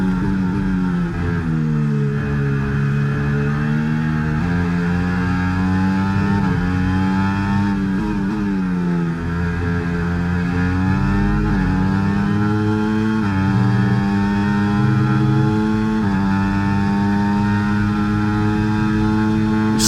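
A Formula 1 car in F1 24 laps Spa at speed, its high-pitched engine whining steadily with rising and falling revs through gear changes and corners, loud and continuous with no talking.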